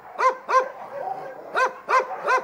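Dogs at an overcrowded animal shelter bark in short sharp yelps, two quick barks followed by three more after a pause, moderately close with faint background whining.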